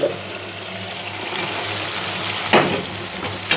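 Potato frying in spice paste for Bengali pabda fish curry gives a steady close sizzle, with a couple of sharp clinks or scrapes near the end.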